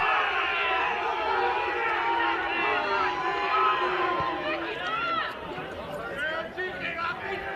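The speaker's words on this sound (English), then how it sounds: "Crowd really getting into it" Spectators at a Tasmanian State League football match, Kingborough versus Clarence, keep up a loud, continuous crowd roar with chatter and rising cheers under a commentator's voice, swelling and then easing slightly toward the end.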